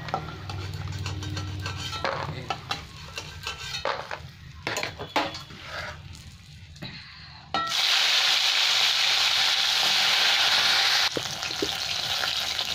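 Fish rubbed with salt and turmeric frying in hot oil for a Bengali fish curry with potato and eggplant, with utensil scrapes and clinks at first, then a loud, steady sizzle in the second half.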